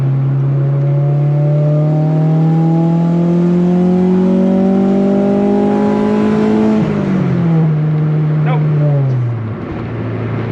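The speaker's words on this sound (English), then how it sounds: "we'll give you one little attempt at VTEC here to merge on the highway" A Honda Civic accelerates hard onto a highway, its engine note climbing steadily through the revs before a shift drops the pitch, loud and close from inside the car.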